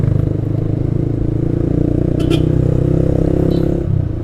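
A motorcycle cruising on a road tour to Malino near Makassar, its engine holding a steady, loud droning hum throughout with a faint rattle and no clear revving.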